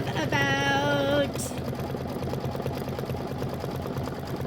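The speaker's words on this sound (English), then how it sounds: "maybe like 2 more minutes in this part of the stitching" A sewing machine stitching a mini quilt: after a short tonal hum at the start, a rapid, even mechanical chatter of the needle runs steadily and close for several seconds.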